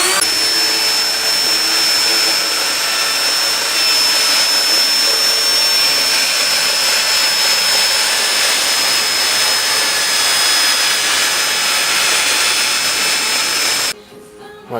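A router cuts a circle in wood for a speaker cabinet, giving a loud, steady, high whining roar up close that runs unbroken for about fourteen seconds before suddenly cutting out.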